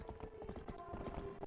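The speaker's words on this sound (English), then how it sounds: "Look at this beautiful horsey." Horse hooves clip-clopping in the video game Twilight Princess, a quick, steady rhythm of close hoofbeats over a low background tone.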